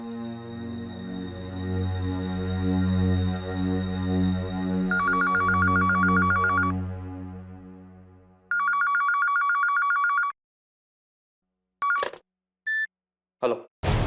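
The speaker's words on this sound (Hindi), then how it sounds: "प्रीतो से फोन करके पूछते हैं, उसे तो जरूर पता होगा।" A telephone rings during a phone call in a household scene, sounding a long steady electronic tone with repeated trilling bursts, then stopping, followed by a few short beeps and clicks from the handset, loud and close.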